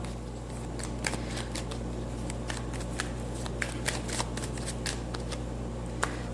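Tarot cards shuffled by hand to draw an advice card, a steady papery riffle with sharper flicks and snaps scattered throughout, close and fairly quiet over a low constant hum.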